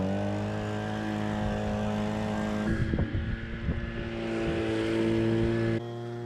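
An Echo ES255 Shred N Vac leaf blower, set up as a plain blower, runs with a steady engine whine and strong harmonic drone, briefly dipping and sputtering midway before steadying.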